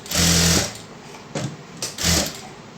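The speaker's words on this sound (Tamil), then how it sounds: "நான் ஃபுல்லாக தைச்சிட்டு உங்களுக்கு காமிக்கிறேன்." Sewing machine stitching soft, double-sided shawl fabric in two bursts, a long steady whir followed by a shorter run after brief pauses, close and clear with no talking.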